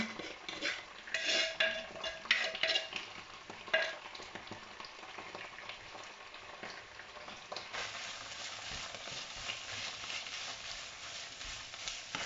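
Steady sizzling of chili paste being stir-fried in a hot pan with scraping and clinking of a utensil as it is stirred, fairly close and continuous with no talking.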